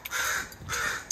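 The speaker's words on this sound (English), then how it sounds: "It's a baby crow that fell from the nest" A baby crow fallen from its nest gives two drawn-out, raspy caws, close by and fairly loud, with a brief pause between them.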